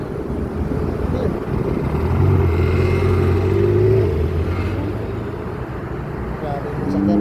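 Cars driving past on a road near a public park in Dubai, a steady loud traffic rumble with a swelling pass-by in the middle, heard under people talking.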